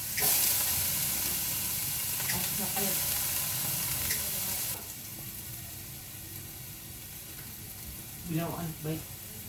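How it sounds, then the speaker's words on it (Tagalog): Garlic and onion sautéing in a pan give off a loud, dense, continuous sizzle that eases slightly midway. Occasional stirring scrapes and clatters break through near the end. "So ginigisa na muna natin guys yung ating bawang at sibuyas."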